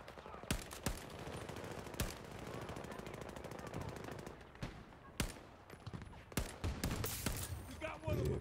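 Gunfire in Battlefield 2042: sharp single shots and short bursts crack out at irregular intervals over a steady battle din, growing denser and louder toward the end.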